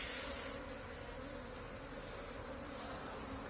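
Asian honey bees (Apis cerana) buzzing in a steady, close hum, carrying pollen, with a continuous droning texture and no voices throughout.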